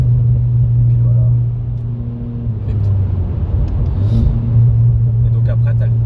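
A Renault Clio 4 RS engine drones loud and close, dropping briefly as a gear change breaks the pull, then resumes its steady rev. People talk over it in the cabin.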